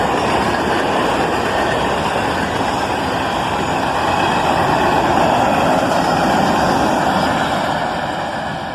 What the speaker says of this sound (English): A nice mix of different colored covered hoppers.